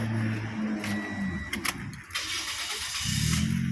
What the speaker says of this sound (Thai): เดี๋ยวมาฟังเสียงเครื่องยนต์พร้อมกัน